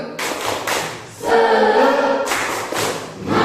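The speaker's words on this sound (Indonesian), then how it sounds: "Tepuk semangat, ayo berdiri untuk mengakhiri pembelajaran kita." A class standing at the end of a lesson claps a rhythmic cheer: loud, close bursts of clapping in a patterned beat, with voices chanting together in the middle.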